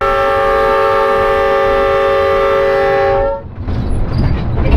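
Heritage railway locomotive on Kansas's official heritage railroad, a loud steady multi-tone horn blast held for about three seconds, then cut off and replaced by the heavy rumble of the engine running.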